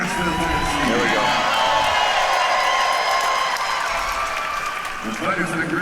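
A crowd at an armored MMA fight claps and cheers loudly with whoops and shouts, a dense sustained roar of applause with an announcer's voice talking over it.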